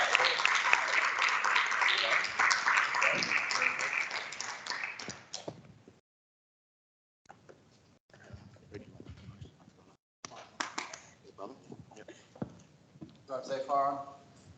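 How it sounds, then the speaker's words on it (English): Conference audience applauding as a departing speaker leaves the stage: dense, loud clapping for about six seconds, then a pause and scattered, quieter clapping with voices talking. "So can we give Phil a round of applause, please, as he runs off the stage?"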